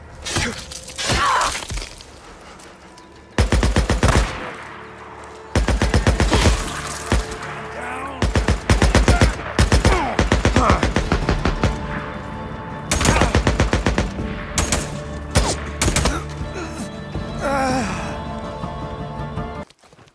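Gunfire in the Days Gone video game, with loud bursts of rapid shots in repeated volleys broken by short pauses, plus some grunts and sighs from characters.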